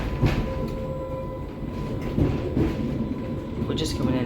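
A London Underground train pulls into North St John's Wood station, with a loud continuous rumble, rattling carriage noise and a steady electrical whine. People talk quietly over it.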